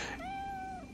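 A single clear cat meow in the video game Nioh, close and fairly loud, drawn out for most of a second.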